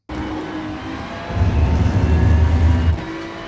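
Ferrari 296 GT3 race car engine accelerating at Sebring in the iRacing sim, a steady loud drone that swells into a deeper, rougher roar as throttle goes to full, then settles.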